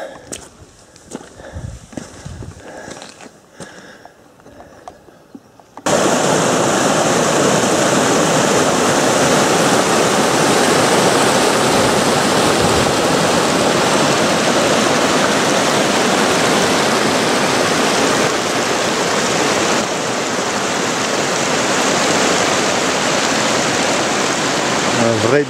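Water rushing through a maze of small mountain streams in the Néouvielle massif, first faint with footsteps and movement, then a loud, steady, close-up flowing roar that continues unbroken.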